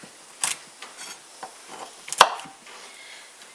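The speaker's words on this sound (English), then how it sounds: "I've also got a little over half a cup of pecans that I'm just roughly chopping." Pecans are roughly chopped with a knife on a board, producing a few sharp, sparse knocks and cuts, close and clear with no talking.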